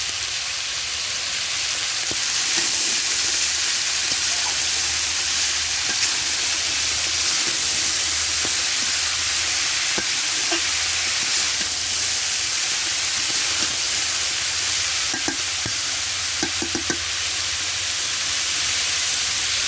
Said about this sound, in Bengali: সেই শালগম ডাঁটা সহ শালবম এখন আমি ভাজি করবো